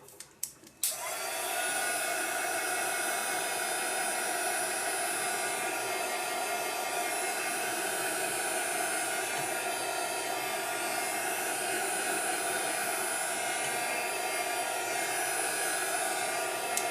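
Hair dryer drying paint on a craft project, switching on after a few clicks and then blowing as a steady, even whoosh with a hum, unbroken and close.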